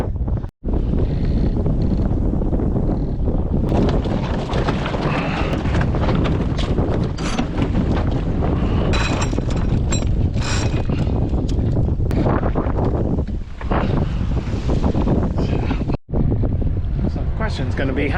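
Strong wind blasts across a sailboat out on the water, a loud continuous roar and buffeting that covers the whole stretch, with someone talking faintly underneath.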